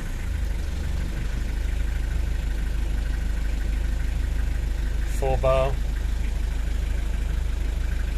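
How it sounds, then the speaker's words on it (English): A Nanni marine diesel engine idles steadily aboard a Sheerline 740 motor boat, a constant low rumble running throughout at close range, with someone briefly speaking over it midway. "Running just like an Nanny diesel should."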